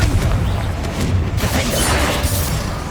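The Confringo blasting curse explodes in Hogwarts Legacy with a loud, close, rumbling boom and a crashing burst of debris that fills the whole moment.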